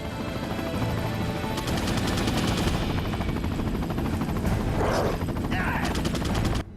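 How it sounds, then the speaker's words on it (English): Rapid, continuous Gatling gun fire in Resident Evil 4 on GameCube rattles loudly over a dense mechanical roar, with a few sharper bursts layered in toward the end. "Protect yourself from Gatling guns and explosions in those flimsy tents, Radd."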